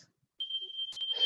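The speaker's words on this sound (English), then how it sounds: "my smoke alarm's just gone off, but that sometimes happens in the kitchen" A kitchen smoke alarm sounds a steady high-pitched electronic tone after a brief silence, fairly faint and continuous, with a couple of short clicks or noises breaking in near the end.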